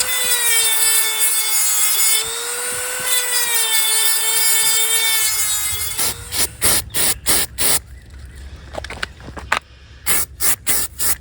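A Dremel rotary tool cuts car roof molding on a 2011 Ford Taurus, a loud high steady whine for several seconds, followed by a string of sharp short bursts of grinding.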